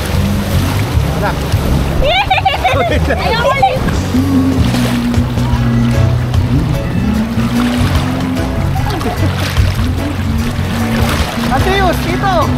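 A motorboat drones steadily across open water while towing a water tube, its engine a constant low hum under splashing and wind, with people shouting and chatting excitedly throughout.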